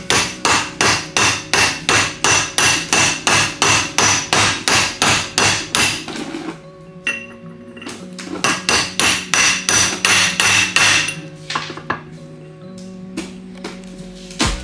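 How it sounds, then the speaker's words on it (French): Rapid, evenly spaced hammer strikes on metal ring out loudly during work on a Renault 4L car, then slower, more irregular blows follow with lingering metallic tones. "J'aime que tu mettes un coup de marteau"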